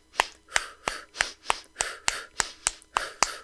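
A voice imitates a running breathing cadence with rhythmic, breathy puffs, in over two steps and out over two, about ten short evenly spaced bursts, close and fairly quiet with no other sound.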